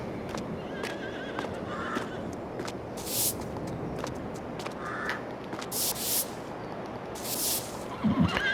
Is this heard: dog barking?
no